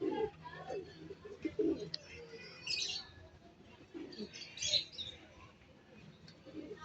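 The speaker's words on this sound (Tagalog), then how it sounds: "Ayun yung aking mga kalapate oh." Pet pigeons in Nueva Ecija, Philippines, coo softly in low, rounded bursts, close by and scattered through the clip, while someone talks over them and brief higher chirps break in twice.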